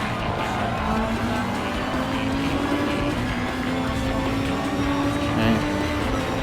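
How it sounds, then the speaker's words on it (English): A race car in a Nürburgring 24-hour online sim race drones loudly, engine pitch sliding as it brakes hard and drops to third gear, with a voice talking over it. "going hard on the brakes, down to 3rd"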